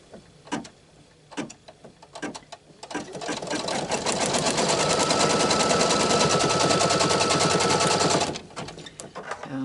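A sewing machine stitches quilt lines on a scatter square quilt table topper. A few short stitching bursts lead into a long, loud, continuous run of fast mechanical rattling, then brief taps as it stops.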